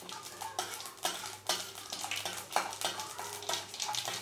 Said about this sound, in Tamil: கடுகு உளுந்து ஜீரகம் பொரிஞ்சோடனே வெங்காயம் பச்சை மிளகாய் போட்டணும்.